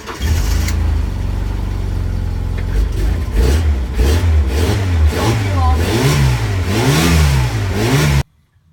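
Ford Fiesta XR2i engine turning over and catching after a service, then revved repeatedly in rising and falling sweeps, loud and close, before cutting off abruptly.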